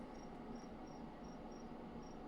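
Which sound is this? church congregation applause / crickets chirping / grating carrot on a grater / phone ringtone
crickets chirping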